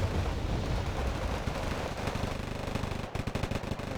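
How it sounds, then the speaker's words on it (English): Machine gun fire in the Wargame Red Dragon strategy game, aimed at an Apache helicopter, comes as a dense rattling roar that breaks into rapid, distinct bursts near the end. "Apache Escort getting a little bit too close, taking some machine gun fire, only 1 HP left"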